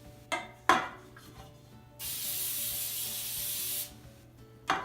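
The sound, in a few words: baking spray sprayed on baking sheet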